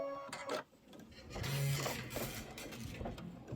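An embroidery machine stitches a Kimberbell storybook pocket pillow, giving a quiet, steady mechanical whir with light rhythmic ticking that swells slightly partway through.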